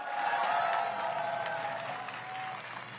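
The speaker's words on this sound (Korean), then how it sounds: "큰 박수 부탁드립니다." Audience applause at an outdoor presidential campaign rally in Cheongju, a dense, steady clapping from a large crowd that slowly thins toward the end.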